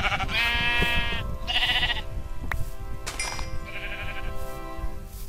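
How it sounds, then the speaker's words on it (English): Several bleats from a video game sheep come in short, wavering calls with gaps between them, loud and near over a steady hum of game ambience. "Ooh, a sheep."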